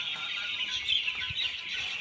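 Broiler chickens clucking and calling softly in a poultry shed, a brief busy chorus of several birds at moderate distance with no talking.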